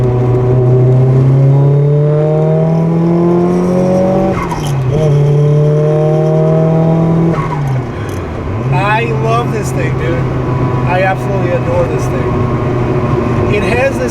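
A Nissan Silvia S14 accelerates hard in third gear, its engine note climbing steadily and loudly, then dipping briefly at shifts before rising again, heard from inside the car with people talking over it.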